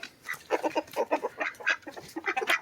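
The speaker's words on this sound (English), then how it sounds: "And now I'm gonna let the chickens out." Backyard chickens clucking busily as they are let out of their coop, a close, rapid run of overlapping clucks and squawks with no talk.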